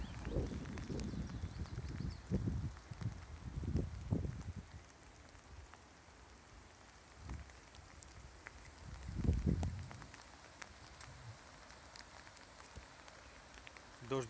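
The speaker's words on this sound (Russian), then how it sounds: "Идет дождик." Rain falling during a thunderstorm over Kazan, a faint patter under scattered bursts of nearby rustling and handling noise, fairly quiet overall.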